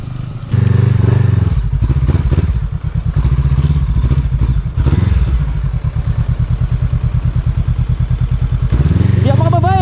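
Close, loud motorcycle engine chugging and revving unevenly on a rough mountain road between Abra and Kalinga in the Philippines, with rattling and thuds, and a voice shouting in Filipino over it.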